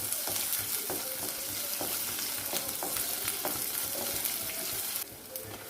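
Finely chopped onion sautés in a pan for a coconut-free okra curry, a dense close sizzle broken by regular scraping strokes of a spoon against the pan.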